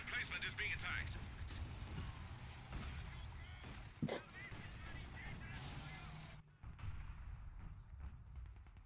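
Tank cannon fire and explosions in a WWII video game battle around Caen, with Cromwell, Churchill and StuG tanks; heavy booms and rumbling blasts sound under a steady layer of game noise, one especially sharp shot near the middle.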